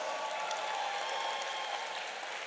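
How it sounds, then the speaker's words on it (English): Law school graduates at a spring hooding ceremony for Juris Doctor and LLM candidates applaud together, a dense, steady wash of many hands clapping at an even level throughout, with no voices standing out. "Clap for yourself."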